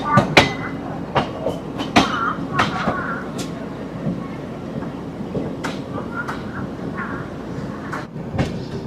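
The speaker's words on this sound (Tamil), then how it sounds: "ட்ரெயின் மூவ் ஆயிடுச்சு." A Mumbai to Chennai passenger train rolling out of Solapur, with rhythmic clickety-clack of wheels over rail joints, sharp metallic clanks and squeals recurring every second or so, and people talking nearby inside the carriage.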